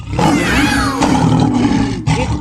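A loud, close lion roar sustained over a couple of seconds, with a brief break before a final growling burst, heard alone without talk.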